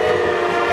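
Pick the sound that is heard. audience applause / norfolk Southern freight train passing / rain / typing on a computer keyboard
norfolk Southern freight train passing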